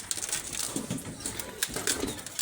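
Pigeons coo close by in soft, throaty bursts, with a few rustles mixed in among the calls.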